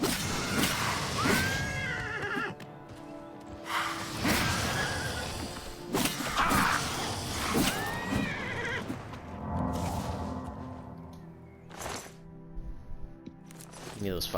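A horse under attack in Oblivion Remastered neighs and whinnies in loud, repeated bursts, with crashing hits and hoof clops mixed in over about fourteen seconds of combat noise.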